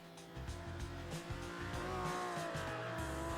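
A yellow Ferrari GTO race car in a racing game roars around the Pergusa circuit, its engine note stepping up and down through gear changes, loud and close with faint tyre noise and no voices.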